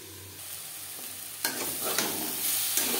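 Eggplant with neem leaves frying in a pan on a gas flame, giving a steady soft sizzle broken by a few brief scraping stirs of a spatula against the pan.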